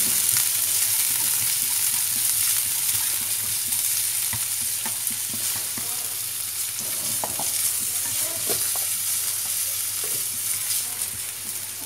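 Minced pork stir-frying in a pan gives a steady close sizzle, with scattered scrapes and stirring clicks throughout and no talking.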